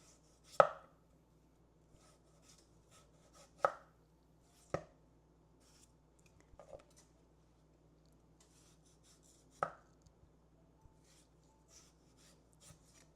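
A knife trims sweet potato and russet potato on a cutting board in a quiet home kitchen, about six sharp, close chops spaced irregularly, with faint scraping between them.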